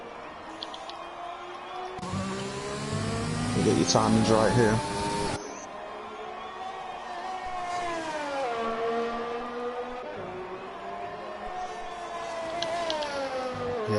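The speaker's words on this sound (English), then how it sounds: "I think we'll see all the cars just darting out the pits now for the final run." Race cars darting out of the pits in an online sim racing esports broadcast, with high engine whine rising and falling and a loud burst of revving, heard under steady commentator talk.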